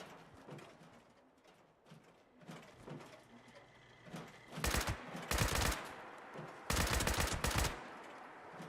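Gunfire in the video game Fallout 76 comes as several loud bursts of rapid shots. Quieter stretches with faint background game ambience separate the bursts.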